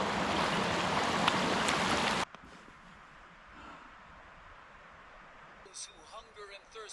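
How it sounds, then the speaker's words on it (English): Hands splash and rinse in the water of a Scottish loch, a loud, close rushing wash lasting about two seconds that cuts off sharply, followed by quiet ambience and a voice near the end. "I'm gonna wash my hands after that."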